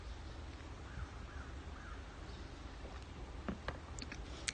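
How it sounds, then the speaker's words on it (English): Several birds call outdoors against a steady background rumble, with a few harsh caws and short chirps scattered near the end, moderately distant. "there's a lot of birds making noise out there too"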